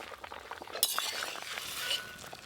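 A lid is lifted off a cooking pot of boiled elephant foot yam, giving a sharp metallic clink and rattle, then a softer clatter over quiet kitchen background, with no voices.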